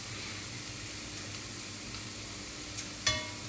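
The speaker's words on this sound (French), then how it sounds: "Donc là on a mouillé à hauteur avec le bouillon, on va laisser tranquillement cuire." Squid risotto simmering in stock, a steady soft bubbling sizzle throughout, with one brief clink of a utensil near the end.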